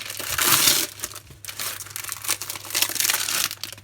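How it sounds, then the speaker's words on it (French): Diamond painting kit packaging being unwrapped, with loud close crinkling and crushing of plastic wrap in irregular bursts, strongest at the start and continuing throughout with no talking. "Donc je vais essayer de déballer tout ça pour mieux voir."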